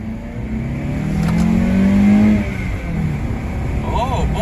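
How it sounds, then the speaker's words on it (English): A Honda Element with new coilover suspension accelerates during an acceleration test, the engine droning and rising in pitch to a peak before easing off, with talk heard alongside. "we're gonna do an acceleration test and see how she drives."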